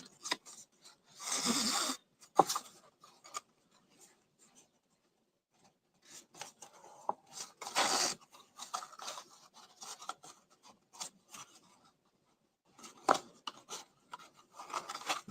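Scissors snip through ribbon in a few short bursts of rasping cuts at close range, separated by quiet pauses and light handling noises, with no talking.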